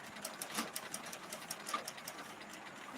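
A sewing machine stitches at night in a home, a steady rapid mechanical clatter with faint ticks, quiet and close, with no talk over it.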